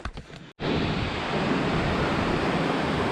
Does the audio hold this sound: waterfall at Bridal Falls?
yes